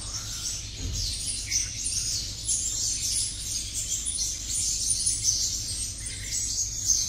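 A caged sunbird sings a continuous thin, high twittering song with quick chirps and trills, close and clear over a faint background hum, no voices.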